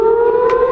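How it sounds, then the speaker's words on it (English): Civil defense sirens wail over Tel Aviv during a rally for hostages, a loud, steady sustained tone with a brief brighter swell midway, no voices. "Sirens sounded in Tel Aviv during a rally for the hostages, and residents took cover."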